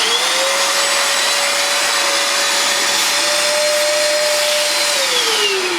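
Efbe Schott backpack vacuum cleaner switched on and running, a loud steady whining roar with a constant motor tone that holds and then dips slightly near the end.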